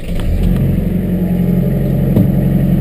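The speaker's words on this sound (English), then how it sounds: "Let's give it a drive." A Massey Ferguson compact tractor pulls away with a steady mid-pitched engine drone and a light clatter. The engine runs loud and close, with a small surge near the end.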